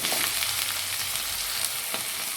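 Cut potato pieces and cumin seeds sizzle in a hot pan for a potato carrot fry, a steady, close, crackling hiss with scattered pops and no talk.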